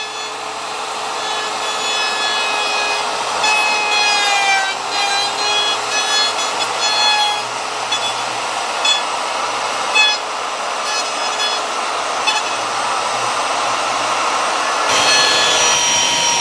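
A power router whines steadily at close range as it cuts a groove in a wooden 2x4, a continuous high buzzing grind that briefly shifts pitch near the end.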